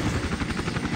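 Helicopter in the video game Iron Storm: a loud, close rotor chop pulses rapidly and evenly under a steady engine drone, with no talking.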